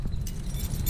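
Car keys for an old Chevy truck jangle briefly at close range, a light metallic rattle lasting about a second with no voices.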